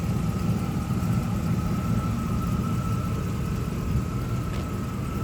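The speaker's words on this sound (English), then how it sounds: "she starts, runs and idles just fine" A 1979 Pontiac Trans Am WS6 engine idles steadily with a constant low rumble and an even hum, running smoothly without changes in revs.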